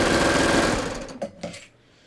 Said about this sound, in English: Then I'm going to put the presser foot down and chain off.